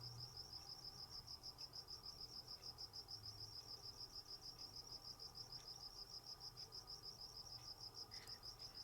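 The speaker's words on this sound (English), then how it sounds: "now you can really hear the crickets" Crickets chirp late at night in a steady, rapid, evenly pulsing trill that carries on alone over a faint, low background hum.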